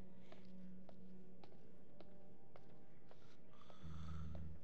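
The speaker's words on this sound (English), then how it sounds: "Oh, that's what noise I hear is them snoring." Faint, low snoring from people asleep in Until Dawn, a soft droning breath punctuated by light taps and small clicks, growing into a steadier hum near the end.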